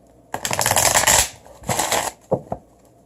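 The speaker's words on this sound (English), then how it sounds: "Your cards do not want to shuffle." Tarot cards riffle in two quick bursts of shuffling, close up, followed by a couple of soft taps as the deck is squared.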